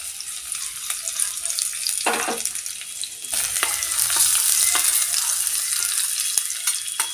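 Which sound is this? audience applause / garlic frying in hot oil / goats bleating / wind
garlic frying in hot oil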